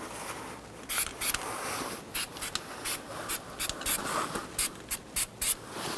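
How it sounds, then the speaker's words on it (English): Short bursts of spray solvent hiss onto the hub face of a 2006-2014 Honda Ridgeline rear brake, about a dozen sharp close spritzes in a quick irregular rhythm after an initial longer spray. "Go ahead and spray it down with some solvent"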